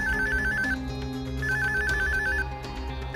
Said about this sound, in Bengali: ফোনটা মাহিনার হবে, রিসিভ কর।